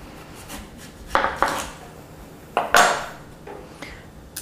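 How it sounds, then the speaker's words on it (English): A knife cuts through a fresh pear on a board while a pear and walnut salad is being made. There are a few soft, crisp strokes and light clicks, grouped in pairs, fairly faint and with no voices. "we're going to start by slicing up this pear right here"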